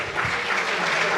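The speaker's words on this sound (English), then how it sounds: "Let's give them another round of applause." Applause from an audience at a dinner celebration, a steady dense clatter of clapping hands filling the room without pause.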